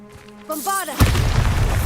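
Bombarda spell blast in the Hogwarts Legacy video game: a sudden loud boom lands about halfway through and a rumbling burst sustains to the end, following a spoken incantation and earlier game sounds.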